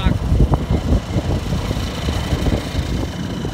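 Boat engine motoring into strong wind, a low rumbling drone under heavy buffeting wind noise, close and continuous.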